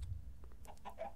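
Chicken clucking in a farm-themed hide-and-seek video game, several short faint clucks coming in the second half over low background rumble.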